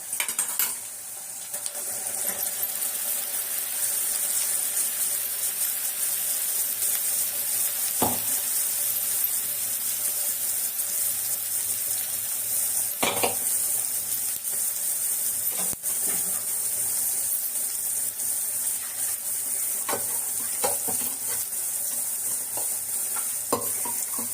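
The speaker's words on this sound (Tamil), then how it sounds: "இப்போ இந்த கிரேவியை இதுல ஊத்திடுவோம் நம்ம." Ground masala gravy of tomato, pepper, cumin, ginger, garlic and green chilli sizzles steadily in a pan of frying onions, with a spoon scraping and clinking against the metal now and then, no talking.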